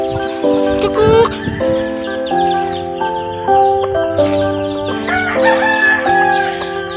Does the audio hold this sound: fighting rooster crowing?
yes